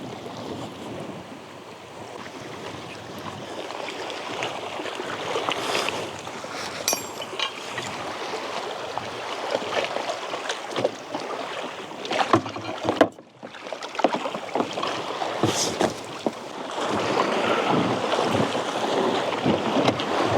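Steady wash of waves lapping on a lake shore with gusty wind buffeting the microphone, continuous and fairly close.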